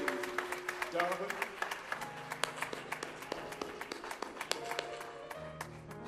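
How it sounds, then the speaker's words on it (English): Scattered clapping from a church congregation welcoming a first-time visitor at a Sunday worship service, sharp claps in a loose rhythm over steady organ or keyboard chords, with voices murmuring underneath. "Let's give him a round of applause."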